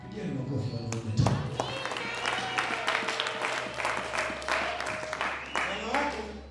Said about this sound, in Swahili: Pigia ni makofi kwa wote.